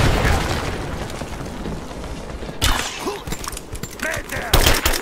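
Bursts of gunfire and booming blasts fill a firefight in Rise of the Tomb Raider. Rapid volleys and sharp cracks come close and loud, with voices shouting between them.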